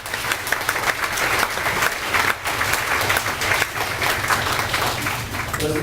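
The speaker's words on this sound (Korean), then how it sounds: "격려의 박수를 보내요." A church congregation gives a round of encouraging applause for the parents in attendance. Dense clapping from many hands fills nearly six seconds at a steady, fairly loud level and cuts off quickly at the end.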